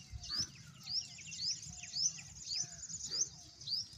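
Sparrows chirp repeatedly from a nest built inside a parked vehicle's headlight and speedometer housing, sharp high tweets coming every half second or so over a low steady background hum, close and clear with no speech.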